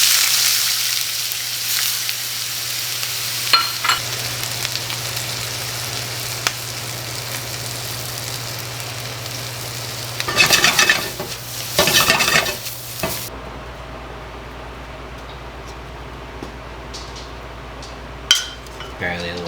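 Shrimp cooking in a pan gives a steady sizzle with clinks and scrapes of stirring, louder bursts of activity in the middle, then a quieter, fading simmer near the end.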